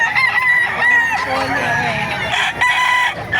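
Roosters crow loudly and repeatedly at a busy chicken market in Bocaue, Bulacan, with several birds overlapping amid clucking and a murmur of crowd noise.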